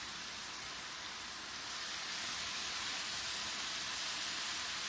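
Soy sauce sizzling in a hot pan, a steady bright hiss that holds evenly and grows slightly louder, with no talk.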